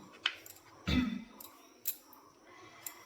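Ingredients are being cut for cooking, giving a handful of sparse, sharp snips and clicks, with a louder thump just before the one-second mark and quiet gaps between.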